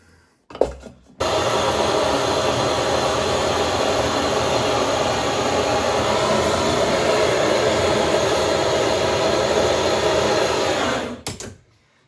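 A torch roars steadily while church silverware is silver soldered, a loud, close, broadband rush that starts with a brief pop, holds unchanged for about ten seconds and cuts off sharply, with no voices.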